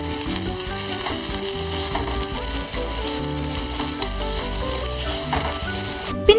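Onion, garlic, ginger, green chillies and curry leaves sauté in a pan, a loud continuous sizzle with rhythmic scraping and clicking of a stirring utensil, close up and with no voices, ending in a sharp knock.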